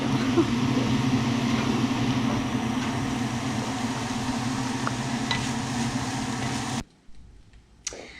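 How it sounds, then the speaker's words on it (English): Bacon and mushrooms sizzle together in a frying pan, a steady close crackling hiss that holds for several seconds and then cuts out abruptly, with a faint clatter afterward. "while your bacon and your mushrooms are cooking together"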